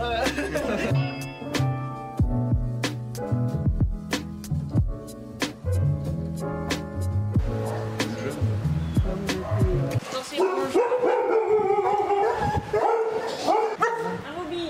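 A hunting dog at an animal shelter barks and yips repeatedly in sharp bursts, mixed with music and voices, growing busier and noisier toward the end.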